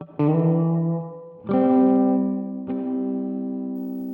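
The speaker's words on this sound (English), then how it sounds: "So you can hear that kind of echoey sound to it." An electric guitar run through a Donner Verb Square reverb pedal on its hall setting plays three sustained chords, each ringing out with a long echoey tail.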